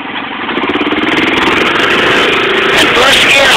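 An ATV engine idling and then revving as the vehicle backs up, a loud close rumbling drone with a steady pulsing throb throughout.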